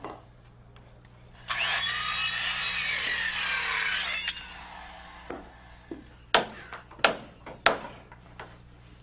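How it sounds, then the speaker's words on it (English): Wooden rafter ends being sawed off on a framed roof: a steady, rasping cut lasts a few seconds, then a series of sharp wooden knocks and clatters follows, all close. "We just want to saw these ends down below the level of the sheeting."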